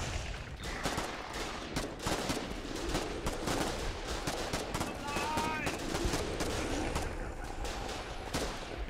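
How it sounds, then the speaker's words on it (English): Heavy, sustained gunfire fills a Foxhole battle, with dense rifle and machine-gun shots rattling nonstop. Voices can be heard faintly beneath the shooting. "Keep firing."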